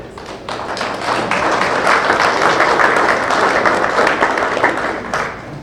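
Sustained applause from an awards ceremony audience at a sports hall of fame event, a dense, steady wash of many hands clapping that swells in quickly, holds loud and even for several seconds, then tapers slightly at the end.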